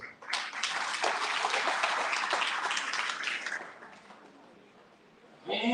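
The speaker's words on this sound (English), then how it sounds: "Mr. Kamara, can we once again give him a round of applause?" An audience claps in sustained applause for about four seconds at an event honoring a man, loud and dense before fading, with a voice starting to speak at the very end.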